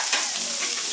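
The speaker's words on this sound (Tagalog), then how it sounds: "luto po tayo ng tokwa" Tofu fries in a pan with a steady, bright sizzle, close and loud throughout one short stretch, with no voices.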